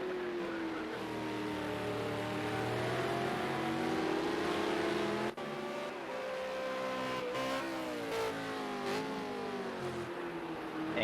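Several V8 Supercar race cars roar around Ruapuna Park in Project Cars 2, engines rising and falling in pitch through gear changes, close and loud and continuous with a brief gap in the middle.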